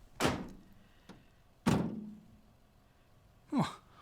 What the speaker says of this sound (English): Well, I knocked and I knocked and I knocked